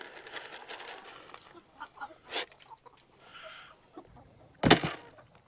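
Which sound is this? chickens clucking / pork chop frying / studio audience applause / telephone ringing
chickens clucking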